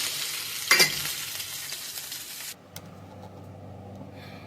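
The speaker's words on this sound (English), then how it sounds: "So I'm going to allow these couple pieces to fry." A couple of pieces of fish fry in hot oil for sweet and sour fish, with a loud, steady crackling sizzle that cuts down sharply partway through to a quieter low background.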